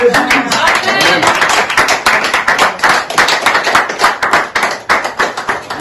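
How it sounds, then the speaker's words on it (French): A church congregation claps loudly and rhythmically in praise of Jesus Christ, with a dense run of hand claps and voices mixed in. "Et le peuple de Dieu acclame pour Jésus-Christ."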